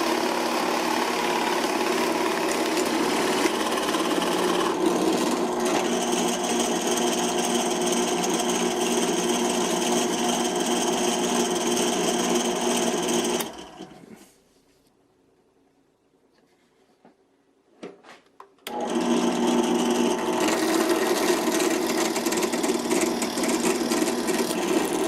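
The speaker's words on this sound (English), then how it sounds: "I ended up switching bits and drilling a 1/4 inch hole to put the perch into" A drill boring a 1/4 inch perch hole in a wooden birdhouse, a steady close motor drone running about thirteen seconds, then near silence with a faint knock, then the drone resuming.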